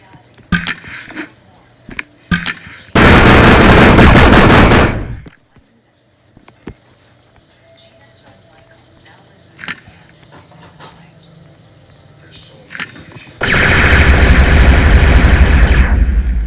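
Loud weapons fire comes in two long, dense bursts of roaring blasts, separated by a quieter stretch of scattered clicks and knocks.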